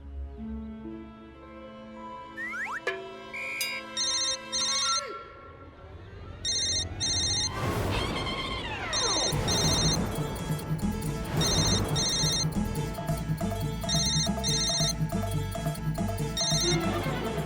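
A telephone ringtone plays in a repeating electronic pattern after a number is dialed, loud and clear, with melodic music-like tones and no talking over it.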